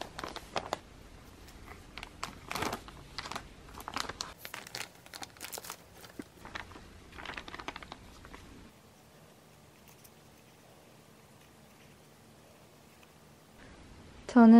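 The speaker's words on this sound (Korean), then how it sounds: "그러면 뜯어볼게요." Apple Pencil skin packaging being torn open, with close, crinkly rustling and ripping bursts over the first several seconds, then a quieter stretch and a loud clatter at the end.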